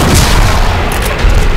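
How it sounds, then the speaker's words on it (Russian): A single loud gunshot boom in the video game Silent Hill 2, heavy and close, filling the short moment with no talk over it. "Второй выстрел, он ляжет."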